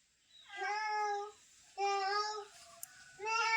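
A cat gives three drawn-out, whiny meows in close succession, loud and near, with a short pause between each and nothing else behind them.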